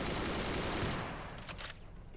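Weapons firing in the strategy game Forts, including a rocket strike: a dense, noisy barrage of blasts for the first second, thinning into scattered, quieter impacts and crackle.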